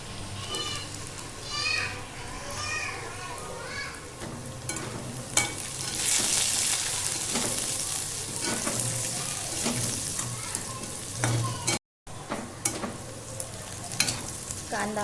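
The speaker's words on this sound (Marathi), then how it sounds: "आता हा कांदा आपल्याला पूर्ण ब्राऊन होऊपर्यंत फ्राय करायचं आहे" Onion fries in oil in a pan until brown, a continuous close sizzle with occasional stirring scrapes, while a person talks over it.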